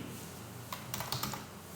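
Computer keyboard keys tapped in a short quick burst as an Alt key code is entered, quiet and close, preceded by a single press, with no voices.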